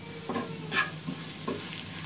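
Onions and spices, including a sprinkle of garam masala, fry in a pan with a low sizzle. A spatula stirs them, giving a few soft scraping strokes over a couple of seconds.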